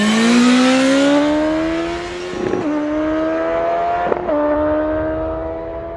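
Two roadster prototype motorcycles at a test track, a 165 horsepower BMW S1000R revving to around 11,000 and an electric roadster, pass loudly with a rising engine whine and quick gear shifts, then fade into the distance.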